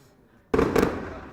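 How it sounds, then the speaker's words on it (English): Fireworks burst at a non-league football match between Stocksbridge Park Steels and Rushall Olympic: a sudden sharp bang half a second in, then a dense crackling roar that carries on loudly. "Here goes the fireworks."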